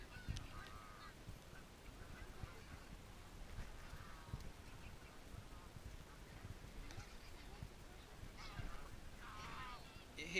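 Geese and ducks flocking in to be fed bread, scattered honks and quacks at moderate distance over faint background noise, with people talking quietly nearby.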